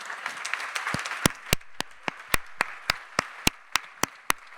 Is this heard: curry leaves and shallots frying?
no